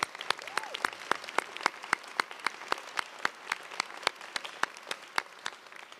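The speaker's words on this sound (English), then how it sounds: "So join me in a round of applause for the staff at the University of California" A theatre audience at a University of California, Merced fall commencement applauds the university staff, with dense, sustained clapping from many hands that stays even throughout.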